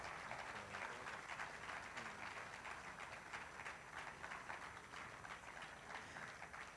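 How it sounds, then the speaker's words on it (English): Audience applause at a leadership conference welcoming a woman to the stage, a dense, steady wash of many hands clapping throughout, fairly distant and even, with no talk over it. "A round of applause, please."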